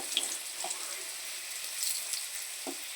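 Potato pieces frying in oil in a pan for a tengra fish curry, a steady soft sizzle throughout, with a few faint stirring scrapes and clinks close by.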